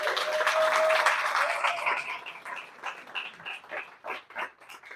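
Applause from an audience for a team being introduced, loud and full at first, then thinning into scattered, separate claps that fade out by the end.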